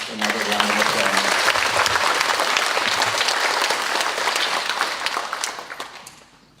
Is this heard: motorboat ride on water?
no